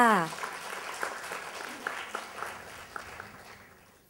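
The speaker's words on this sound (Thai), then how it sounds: "ขอเสียงปรบมือให้ด้วยค่ะ" Audience clapping for an award winner at an HR Forum seminar, a moderate scattered patter of hands that follows a brief voice at the start and fades gradually toward the end.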